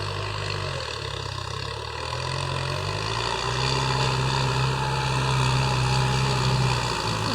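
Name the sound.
Kubota M9540 tractor engine working a field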